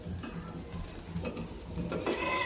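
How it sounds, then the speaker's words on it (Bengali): Dried fish and green chilies frying in a pan give a steady, close crackling sizzle with light stirring scrapes running throughout, no voices. "এগুলো আমি ভালোভাবে ফ্রাই প্যানে টেলে নিব"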